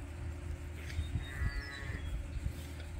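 A pasture-grazed ewe bleats in a wavering, drawn-out call over a low rumble of outdoor background noise, with no talking.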